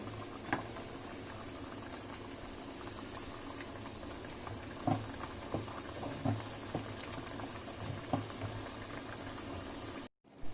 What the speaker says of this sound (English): I have heated some oil in a small fry pan. On the slow to medium flame, we are gonna fry them.